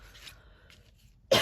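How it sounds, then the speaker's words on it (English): A single short, sharp throat clear right at the end, close and loud after near silence. "I had a complete frog in my throat. So I just had to clear my throat a bit."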